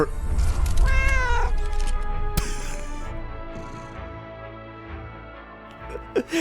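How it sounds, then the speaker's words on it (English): A cat character in the video game Arknights meows in several expressive, wavering calls, loud and close, then fades into quieter game sounds with a short voice near the end. "it's gonna just be like some meowing the moment I summon her"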